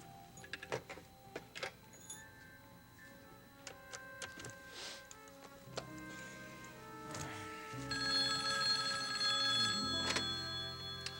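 A telephone rings in a hotel setting in a 1979 soap opera, sounding in a series of bell-like rings that grow fuller and louder toward the end, with soft ticking and small knocks in between.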